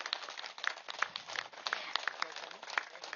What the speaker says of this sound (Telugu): మన ఆత్మ బంధువులందరికీ గట్టిగా క్లాప్స్ కొడదాం.